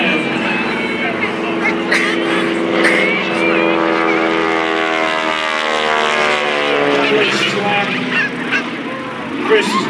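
A former Navy SNJ training aircraft flies maneuvers at the 2024 Leesburg Airshow, its engine a loud, continuous droning tone that slides lower in pitch as it passes, with a voice talking over it.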